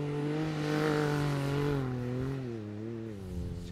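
An ATV engine revs hard while the quad spins donuts, a loud, close, continuous roar that rises and then wavers in pitch as the throttle changes.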